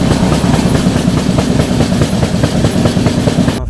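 Humsafar Superfast Express running at speed, loud continuous rumble with rapid clickety-clack of wheels over rail joints heard from on board, no voices.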